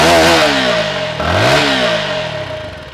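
Keeway K300N motorcycle engine revving up and falling back, with rising and dropping pitch across two throttle blips, loud and close with no talk.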